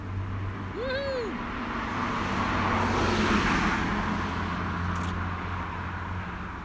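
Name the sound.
Mazda sports car passing by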